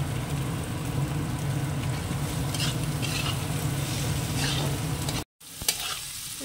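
Beaten eggs with a little salt sizzling in hot oil in a pan with a few vegetables for chow mein, with steady frying and stirring throughout, then a brief drop out and a scrape near the end.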